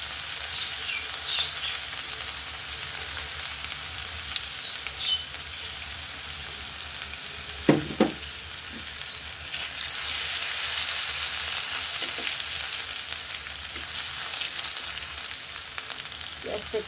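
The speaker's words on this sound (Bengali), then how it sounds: "পেঁয়াজটা একটু ভাজা ভাজা হলো," Onion paste and spices sizzle steadily in hot oil for a tilapia and potato curry, a continuous close frying hiss with a few soft stirring knocks and no talking.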